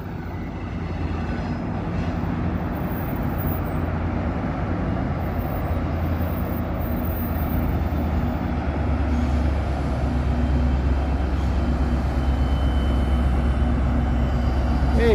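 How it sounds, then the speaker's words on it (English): An inbound city train passes through Toronto in the evening, a steady low rumble that builds slowly over about fifteen seconds as it draws nearer, moderately loud against distant urban ambience. "There's another train inbound."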